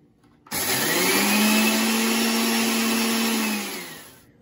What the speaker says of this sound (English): The next step is to blend them until they turn into a powder.